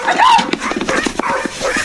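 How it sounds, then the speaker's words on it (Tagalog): Dogs barking at an intruder at the gate, several short barks and yips under an excited, shouting human voice, close and loud. "Bakit tahol kayo"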